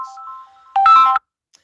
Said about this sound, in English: That's a phone call that I'm waiting for.